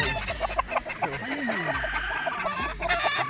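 Gamefarm battle stag roosters cluck and call repeatedly in a busy, close chorus of overlapping squawks and gliding crow-like notes, with faint voices in the background.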